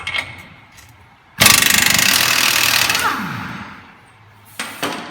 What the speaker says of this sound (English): you can just go ahead and put an impact on the nut and just run it off